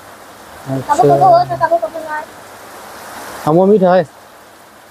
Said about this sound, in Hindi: वहाँ पे बारिश बहुत झमाझम हो रही है